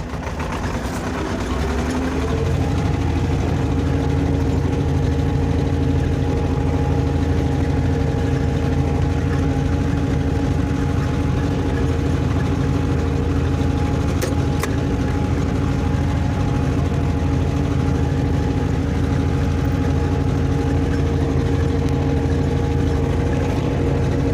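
A tractor engine runs loud and steady while ploughing a small garden plot in sandy, stony, clay-like soil, with a continuous close-up drone throughout and no voices.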